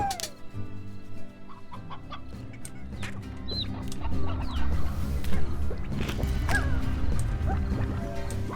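Chickens in the Slime Rancher game cluck and squawk repeatedly, near and fairly loud, over a busy backdrop of game sounds and thumps.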